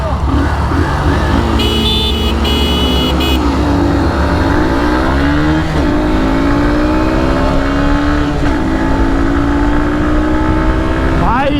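Hero Super Splendor Xtec and Xtreme 125 motorcycles in a drag race, engines revving hard and rising in pitch through repeated gear shifts, loud and steady throughout.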